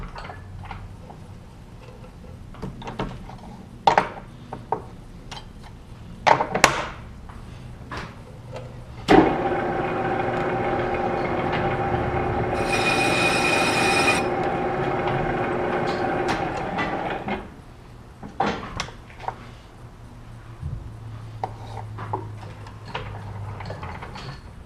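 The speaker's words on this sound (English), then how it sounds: "I'm going to turn my tool around and give it a quick chamfer, and that'll be done for the lathe work." A lathe cuts a quick chamfer on a steel flywheel, a steady tonal whine with a sharp high ring from the tool lasting several seconds, framed by clanks and clicks of the workshop before and after.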